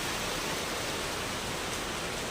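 Rain falls in a dense, unbroken hiss that stays steady and fairly loud throughout the short stretch, with no voices.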